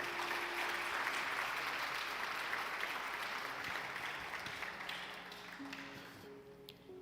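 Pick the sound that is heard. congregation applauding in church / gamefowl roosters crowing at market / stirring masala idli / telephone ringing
congregation applauding in church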